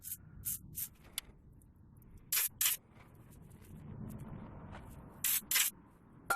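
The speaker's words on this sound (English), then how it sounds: "I'm trying not to spray it directly into it, but I want all of this stuff off." Aerosol cleaner hisses onto a Maserati GranSport ball joint during a dust cover replacement, in several short bursts, mostly paired, close and fairly loud, with quiet pauses between.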